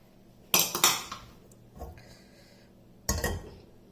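A metal lid clanks as it is lifted off a cooking pot of dal on a stove, two sharp bursts of metallic clatter with a softer knock between them.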